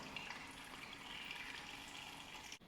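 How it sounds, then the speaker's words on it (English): Water pours and gushes steadily into a fish tank's overflow and rear sump, a continuous, even rush that cuts off abruptly near the end. "Filling up the overflow, filling up the sump in the back."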